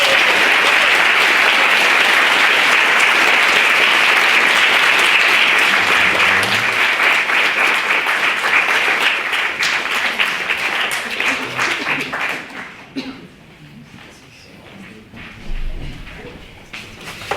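Loud, dense applause from a debate audience fills the hall for about twelve seconds, then thins into scattered claps, shuffling and a few thuds as it dies away.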